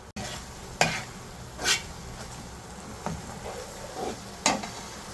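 Sauce simmering in a pan with vinegar for an Indian restaurant-style curry, a low steady sizzle broken by several soft stirring scrapes spaced irregularly, close and fairly quiet.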